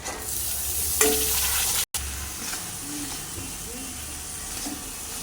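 Cooked chickpeas with homemade red chili powder fry in a pan for a spicy chickpea usal, with a steady close sizzle and scraping stir strokes, briefly cut by a short gap.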